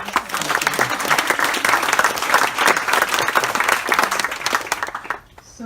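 Audience applause at a book event, a dense patter of many hands clapping steadily for several seconds before quickly fading out.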